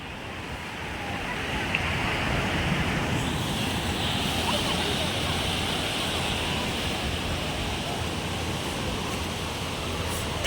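Sea waves washing in at the shore in Digha, a steady broadband wash of surf that holds fairly even throughout with no clear single breaks, close by, with a voice speaking over it.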